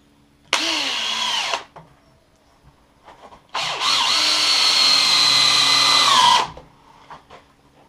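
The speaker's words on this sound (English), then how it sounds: "Then you can just work your way around screwing." A power drill drives screws into wooden pieces of a large 12-metre dome, two loud sustained bursts of about one and three seconds, each winding down, with a short gap of quiet between.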